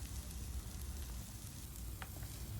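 Zucchini strips stir-frying with garlic, green spring onions and white sesame seeds, a soft continuous sizzle with faint stirring clicks, quiet and steady.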